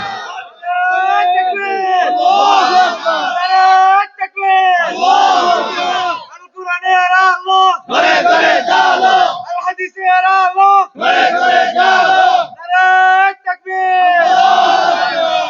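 A large crowd at a Bangla-language religious gathering chants slogans loudly in unison, with repeated bursts of collective shouting separated by brief pauses.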